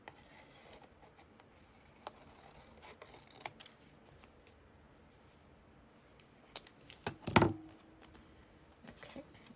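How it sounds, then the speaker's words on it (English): Scissors trimming around a paper craft tag, quiet close snips and paper rustles scattered across the stretch, with a sharper cluster of cuts and one louder crinkle near the end. "so now let's trim this out. Same thing, just trimming around."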